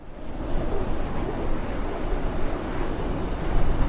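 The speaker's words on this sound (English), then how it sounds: "I heard a jet." A jet aircraft passes in Microsoft Flight Simulator with live hurricane weather, a steady broad roar with a faint high whine running throughout, fairly loud and without talk.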